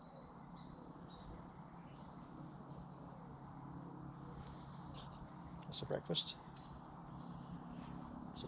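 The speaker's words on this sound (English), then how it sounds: "Birds are still very active." Morning birdsong in English woodland in Essex: high chirps and short trills, mostly faint and distant, with a brief cluster of clicks, while someone speaks quietly at the start.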